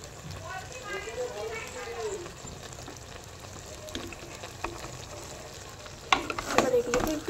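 Fried prawns dropped into a hot pan with Malabar spinach for a Bengali chorchori, giving a low steady sizzle with soft scraping stirs and a louder burst of clatter and frying near the end.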